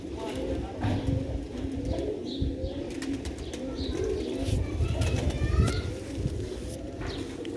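Sialkoti pigeon chicks of a pearl-eyed breed cooing and murmuring softly in a loft, with a steady low background and someone talking at points.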